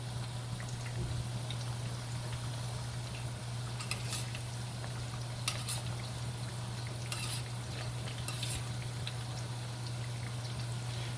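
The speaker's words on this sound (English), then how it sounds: "Just going to move some of these over onto the side so they don't burn the bottom." Italian meatballs fry in a pan with a steady low sizzle and hiss, broken by a few brief scraping clatters as they are pushed aside, no voices.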